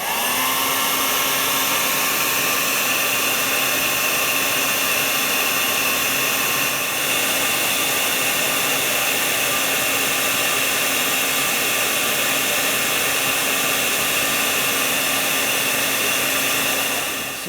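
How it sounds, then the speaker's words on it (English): A hair dryer blows hot air onto the back of the knees of a Marvel Legends comic-style Thanos action figure, a steady, close, unbroken whirring hum that runs throughout with no talking. "I got my hair dryer, and again, we're going to be focusing the heat right here on the back of these knees."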